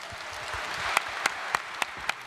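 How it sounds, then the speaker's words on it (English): A live audience applauds Dennis with a steady wash of clapping, while a few louder, evenly spaced claps ring out close by in the second half. "Let's just have a round of applause for Dennis."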